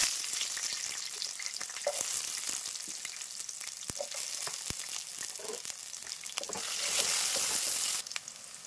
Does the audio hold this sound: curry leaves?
yes